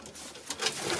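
Pigeons coo softly in a racing pigeon loft, a brief, faint throaty murmur without any voices.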